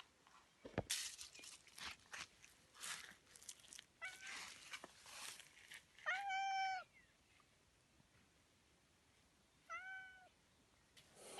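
A cat meows a few times in a garden, short tonal cries spaced apart, over faint outdoor rustling and scattered clicks.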